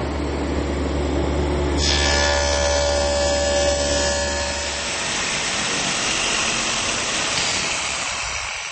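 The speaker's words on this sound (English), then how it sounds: "All of those are cut at the table saw." A table saw cuts a dado in a cabinet side panel: a loud motor hum and whirring blade roar, shifting tone as the blade engages the wood, then spinning down partway through; no one speaks.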